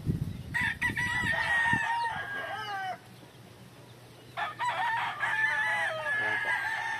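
A pure yellow-legged hatch gamefowl stag crows twice, loud and close, each crow a long rising-then-falling call, with clucking and farmyard rustle between and some low noise at the start.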